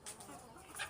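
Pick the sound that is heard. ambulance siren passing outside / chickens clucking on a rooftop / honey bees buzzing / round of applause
chickens clucking on a rooftop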